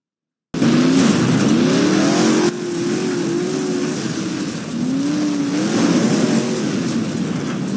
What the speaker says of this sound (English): Cars are going around the dirt track